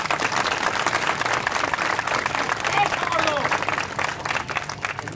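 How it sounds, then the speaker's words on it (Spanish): An outdoor street audience applauds at a clown show in the Alameda, a broad wash of clapping with crowd murmur and voices mixed in throughout. "Regálame el aplauso y le echamos ganas."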